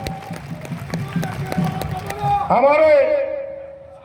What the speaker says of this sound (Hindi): जरा जोरदार ताली बजना चाहिए चुन्ना बाबू के लिए।